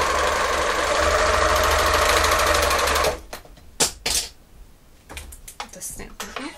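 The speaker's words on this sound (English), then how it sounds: "we should see the difference in how the differential feed handles the fabric." A serger overlocking fabric with differential feed set to 0.7 whirs loudly and steadily for about three seconds, then stops, followed by scattered clicks and handling noises with some talk.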